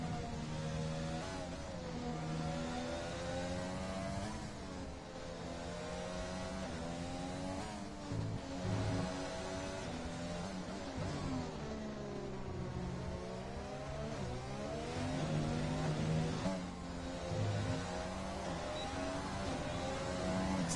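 Formula 1 race cars in a racing video game scream around the Vietnam circuit, with a continuous high engine whine whose revs rise and fall through gear changes as cars run close together.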